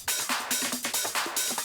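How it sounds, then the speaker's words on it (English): A tight top drum loop for a dance track runs with crisp, bright hi-hat and percussion hits in a driving repeated pattern, fairly loud and with no voices. "The main top loop sounds like this."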